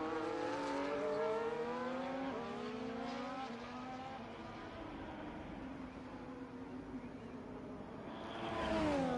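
Formula racing cars from a racing video game, Ferrari against Red Bull on the Casino Straight at Montreal, Canada, engines howling steadily with rising and falling pitch as they accelerate, loud and continuous, swelling again near the end.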